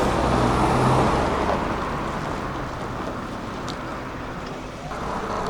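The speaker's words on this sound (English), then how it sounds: "Reversing to its stop in the yard, 1982 built Leyland Leopard with an Alexander body" A 1982 Leyland Leopard shuttle bus with Alexander bodywork reverses into a railway station yard at a vintage transport gathering, its diesel engine a steady broad rumble mixed with outdoor wind and traffic noise, fairly loud and continuous.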